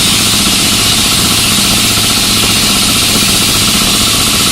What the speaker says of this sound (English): the fan that's built into the compressor pulley is drawing air through this